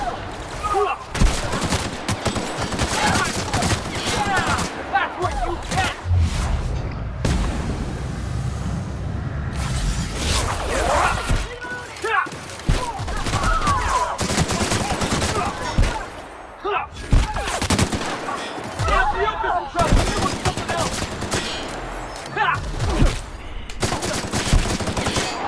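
Heavy gunfire from a big gun in the video game The Outer Worlds, dense rapid bursts and booms nearly nonstop over a combat soundtrack, with brief lulls and occasional talk.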